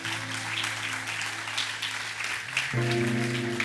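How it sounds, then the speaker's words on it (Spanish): Church congregation applauding during a pastor's sermon, a steady, moderate wash of clapping over sustained organ or keyboard chords that shift partway through. "Dale ese aplauso fuerte al Señor."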